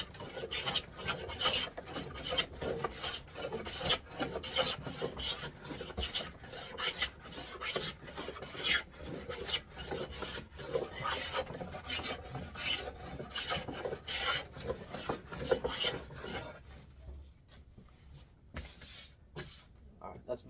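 Hand plane shaving walnut wood, a steady series of rasping strokes repeating close up for most of the stretch, then thinning out toward the end.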